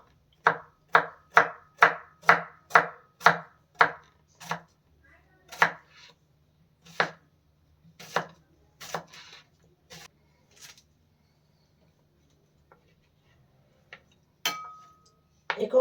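A knife chops banana flower on a board, first about eight sharp, evenly spaced knocks, then slower, scattered cuts that thin out into near silence, close and crisp with no talking.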